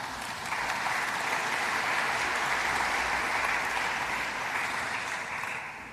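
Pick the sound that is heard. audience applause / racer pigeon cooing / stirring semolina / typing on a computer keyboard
audience applause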